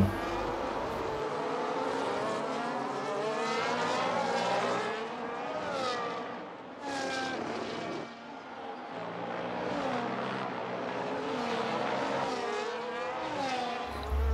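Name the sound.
race cars on track in a Formula 1 racing video game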